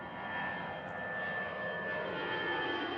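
An airplane's engines roar in a steady, broad rumble as it comes in to land at Washington Reagan National Airport. The sound is moderately loud and constant, with a faint high whine and no voices.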